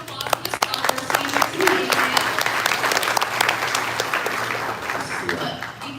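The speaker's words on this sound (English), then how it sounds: "let's have some applause for the scholars team" Audience applause for a G.I. Joe Classified Series team at a San Diego Comic-Con Hasbro panel: dense, steady clapping from a large crowd that fills all six seconds, with a low hum running underneath.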